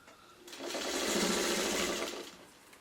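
A sewing machine stitches fabric in one continuous run of about two seconds, a close, steady whirring hum that rises, holds and fades, with no talking.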